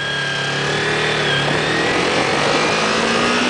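Motorcycle engine accelerating on a road, a loud steady mid-pitched drone with rising whine and constant wind rush, close and continuous with no talk.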